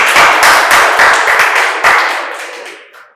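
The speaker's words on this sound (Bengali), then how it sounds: "জোরে হাততালির জন্য" An audience at a quiz competition at a medical college in Santiniketan claps loudly for a correct answer, a dense burst of applause that fades out over about three seconds.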